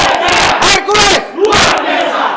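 Members of the GRIB group shout their chant in unison, a loud, close crowd of voices in sharp rhythmic bursts separated by short gaps.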